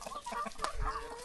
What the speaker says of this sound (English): The alpha chicken.